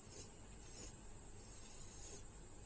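Graphite pencil darkening a center line on paper while sketching a feather, giving soft, close scratchy rubbing strokes in three or four short bursts.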